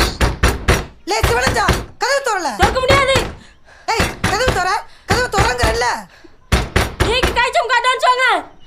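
Several sharp knocks rap on a door at the start of a Tamil film trailer, with another short burst of knocking later, mixed among loud voices speaking in the scene.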